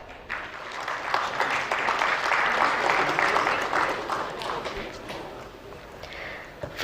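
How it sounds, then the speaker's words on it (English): Moderate audience applause at a leadership panel on infrastructure, resilience and oceans, swelling and then tapering off, somewhat distant and soft in a conference hall. "Can we have a round of applause?"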